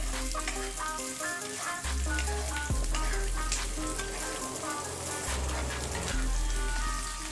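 Onions frying to a deep red for mutton biryani, a steady loud sizzle running throughout with a low rumble and some background tonal music.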